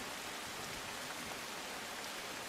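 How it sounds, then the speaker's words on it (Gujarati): Heavy rain falls in Ranbuda village, Sagbara, Narmada, as a dense, unbroken hiss at a constant level, with no voices. "સાગબારાના રણબુડા ગામમાં ભારે વરસાદ પડ્યો છે"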